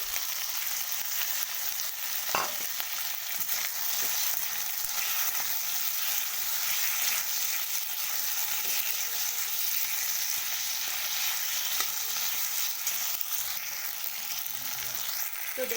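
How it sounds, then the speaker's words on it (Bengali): Chopped tomatoes frying in a pan of jackfruit curry, giving an even, continuous close sizzle with a few faint clinks of stirring. "এরপর আমি কুচিয়ে রাখা টমেটো দিয়ে দিলাম।"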